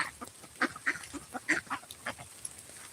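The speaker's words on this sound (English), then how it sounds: "that's our female Muscovy duck" Muscovy ducks at feeding time on a farm, making a string of soft, breathy honks and hisses in irregular quick bursts, close by but fairly faint.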